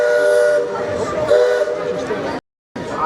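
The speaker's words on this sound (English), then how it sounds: "Bell steam whistle." The Liberty Belle riverboat's steam whistle at Magic Kingdom blows loud and steady for about two and a half seconds, a bright multi-tone blast with hissing steam, then cuts off briefly before sounding again.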